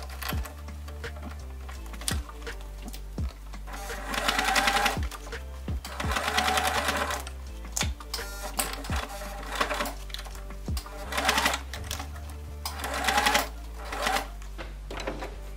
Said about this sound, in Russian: нужно по верхнему краю проложить отделочную строчку